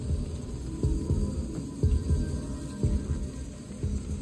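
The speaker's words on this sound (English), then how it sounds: "Like that sounds like a heartbeat." Heartbeat sound in the video game Remnant 2, a low, steady double thump repeating about once a second beneath a constant hum, with no talk.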